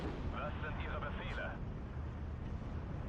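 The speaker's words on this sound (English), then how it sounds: "But my artillery, you can see here, hitting the IS-2s nicely." Artillery fire in the war video game Steel Division 2, shells striking IS-2 tanks, a dense continuous rumble of booming impacts that holds steady and loud throughout with a brief higher texture near the start.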